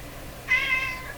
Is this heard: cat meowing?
yes